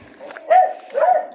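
A dog on a mountain path near houses gives two short close barks about half a second apart, fairly loud against quiet surroundings.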